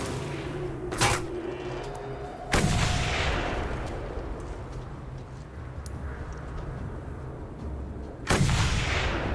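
Sniper rifle shots in the Mad Max video game, three loud booming reports spaced several seconds apart, each trailing into a rumbling echo over low game ambience.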